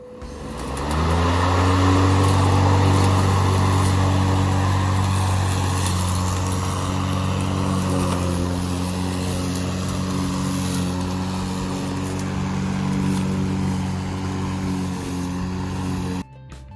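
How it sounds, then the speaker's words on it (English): A Makita electric lawn mower cuts grass with a steady, loud motor hum and whirring blade that spins up at the start and runs continuously, with a brief cut-off at the end. "Let's mow."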